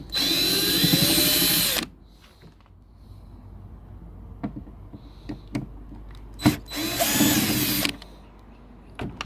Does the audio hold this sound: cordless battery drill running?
yes